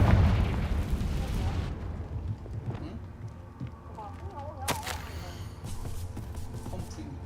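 Confringo spell explosions crackle and boom in Hogwarts Legacy, a loud rumbling burst that fades into a busy game soundscape, then a second sharp pop follows amid background chatter.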